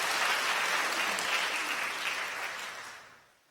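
A church congregation at a Sunday service gives warm welcoming applause, a dense sustained clapping that fills the room and fades out toward the end, with no speech over it.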